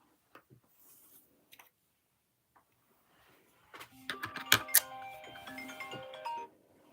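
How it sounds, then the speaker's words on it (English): A bright electronic phone alarm melody chimes for a few seconds, fairly close and clear, after a few faint taps in near silence. "Don't worry about that. That's just my alarm."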